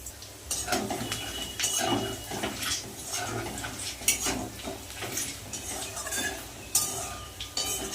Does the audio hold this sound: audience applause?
no